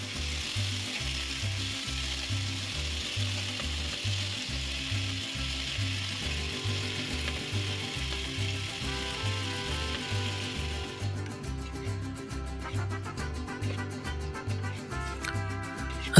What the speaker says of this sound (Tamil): மிளகாத்தூள் சேர்த்து எண்ணெயில் நல்லா பொரிச்சு எடுத்தாங்க